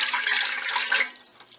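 Water, one and a half cups, poured into a bowl for whole wheat bread dough, a brief splashing rush that tapers off quickly, close and fairly quiet with no voices.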